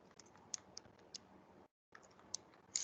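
Buttons on a graphing calculator are pressed one after another to type in a function, making a series of small, sharp clicks spaced irregularly, with a brief pause partway through, quiet and close.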